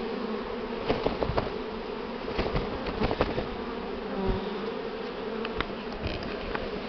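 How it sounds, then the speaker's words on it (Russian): A dense, steady buzzing of many honey bees swarming close around a beekeeper during a spring swarm, with sharper individual buzzes darting in and out of the constant drone. "На меня пчелы набегли на меня."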